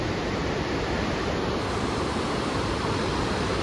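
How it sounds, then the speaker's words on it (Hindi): A waterfall pours beside a river in a green meadow at Sonamarg, a dense, constant roar of rushing water filling the whole clip without any break. "वाटरफॉल।"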